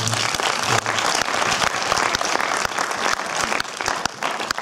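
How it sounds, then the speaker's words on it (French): An audience at a cinema premiere applauds, a dense, loud, sustained burst of clapping from a full crowd that continues evenly throughout. "dans la personne de Cécile, donc on peut l'applaudir, Océan Film."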